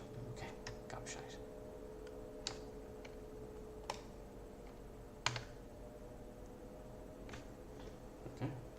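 Faint, sparse tapping on a computer keyboard, scattered individual key clicks and a few quick runs of strokes over a quiet room hum.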